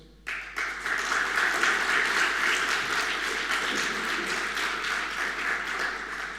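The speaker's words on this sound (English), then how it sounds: "I think this calls for a round of applause" A conference audience at the opening of a library association's annual conference in Riga, Latvia, breaks into sustained applause, starting abruptly and holding as a steady, fairly distant wash of clapping.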